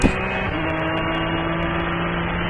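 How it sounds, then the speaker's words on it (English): A race car engine at Road America drones steadily at a distance with a constant tonal hum, and a few faint ticks sit above it. "Oh, that sounds like a race car's race car"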